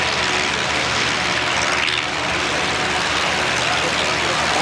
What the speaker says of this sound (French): ces 4 moteurs permet à l'Atlas de monter et de dégager rapidement l'axe de piste